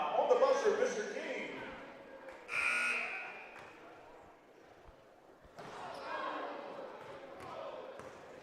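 Buzzer at a boys' high school basketball skills competition, a sustained electronic tone sounding once in a crowded gym, with bouncing balls and crowd noise around it and an announcer talking.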